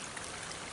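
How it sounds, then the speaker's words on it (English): Fresh, ice-cold spring water flows steadily along a wooded ridge, a continuous broadband rushing and trickling wash heard close and alone. "That it's good, fresh spring water, ice cold,"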